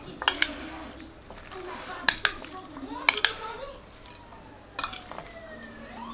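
A spoon stirring a barley and grilled vegetable salad in a bowl, with several sharp clinks and scrapes in an irregular rhythm, close and fairly loud, alongside soft kitchen background noise.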